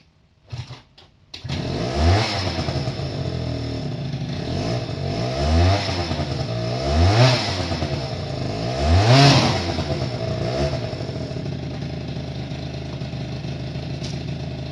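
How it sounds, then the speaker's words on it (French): Scooter fitted with a 70cc Black Trophy kit engine, revving hard in repeated rising bursts over a steady two-stroke idle, loud and close, starting after a brief pause with no talk. "Là je vais prendre une dernière fois en vidéo mon scooter avec le 70 Black Trophy dessus."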